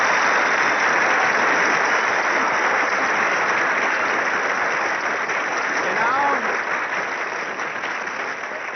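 Audience applause at a live radio comedy show, a dense, continuous wash of clapping that fills the whole stretch and fades slightly toward the end.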